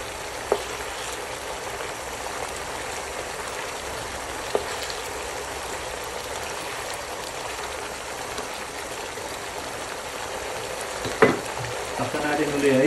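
Milkfish simmering in black bean sauce in a pan gives a steady, moderately loud sizzle throughout, with a brief clatter and scrape near the end as the fish are flipped.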